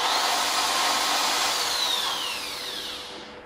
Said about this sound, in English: it's a 550 watt Makita drill